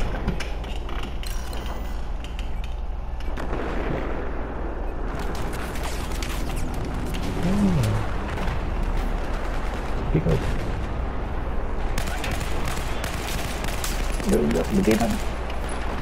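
Gunfire from a Battlefield 4 multiplayer match, steady dense crackle of shots and bursts running throughout over background game ambience, with players talking over it.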